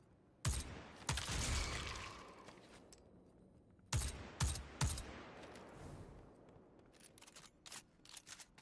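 Bursts of gunfire in the Destiny video game as a player shoots attacking moths, sharp clustered volleys at the start and middle with scattered single shots trailing off toward the end.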